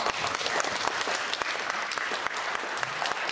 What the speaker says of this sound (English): Please give a huge round of applause for Simon, our third place finisher.